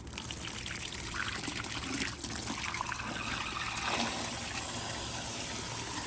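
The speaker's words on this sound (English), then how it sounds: "I'm gonna just rinse this out." Running water pours steadily into a container being rinsed out, a continuous close splashing and trickling that stays loud from start to finish.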